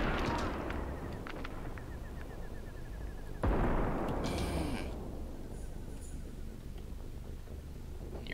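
Gunfire in an online zombie survival shooter game, several sharp shots with one loud crack standing out midway, mixed with rumbling game noise and distant bursts that fade away.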